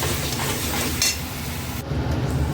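Spice masala frying in oil for a jackfruit and prawn curry, stirred steadily with a utensil, giving a continuous close sizzle with occasional scraping clinks against the pan.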